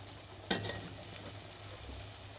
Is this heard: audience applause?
no